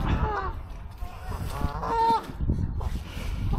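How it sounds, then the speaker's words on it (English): Canada geese honk loudly in a scuffle, harsh overlapping calls in short bursts over outdoor background noise, heard close by. "I'm not too sure what's going on there with the Canadian geese."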